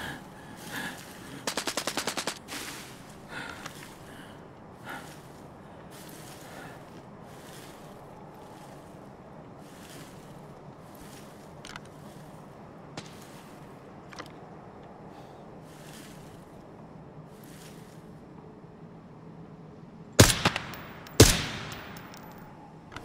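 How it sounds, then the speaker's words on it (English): Gunfire in the shooter game Arena Breakout Infinite on the Valley map, coming from behind the player: a loud burst of rapid shots early on, quiet ambience with scattered soft clicks, then sharp, heavy cracks near the end. "We do end up hearing gunshots right behind us here"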